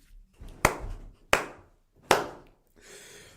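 Three sharp hand claps ring out alone at an even, unhurried pace, each a crisp close smack with a short decay, in an otherwise quiet room.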